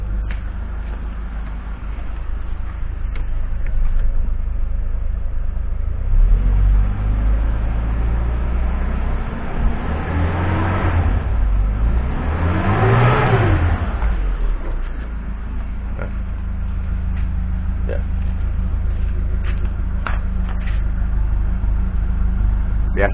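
Suzuki Jimny Katana engine revved high, a low steady idle swelling into two rising and falling revs in the middle before settling back to idle, heard close and alone.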